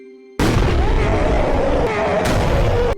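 A gunshot in a film, fired at a large predatory creature, bursts in suddenly and loud, followed by a sustained booming roar and rumble that fills the rest of the moment.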